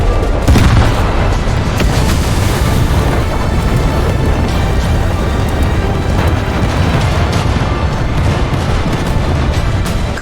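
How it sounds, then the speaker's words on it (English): Naval time-fuse shells burst in proximity explosions during a video game coastal-defense battle against helicopters, a dense, loud, continuous barrage of booms and rumbling blasts with no talk over it. "Those proximity explosions having a good impact here"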